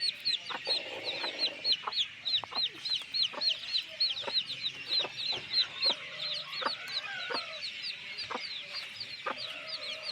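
Hens cluck steadily close by while chicks cheep continuously in a rapid high chatter, with the clucks coming as short repeated bursts and no talk over them.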